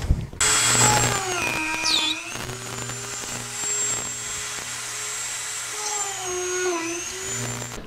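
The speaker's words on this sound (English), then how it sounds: "And now it's time to drill pilot holes." Drill press boring pilot holes in small wooden keychains, a high, whining motor hum that rises and bends in pitch as the bit bites into the wood, steady and close for several seconds.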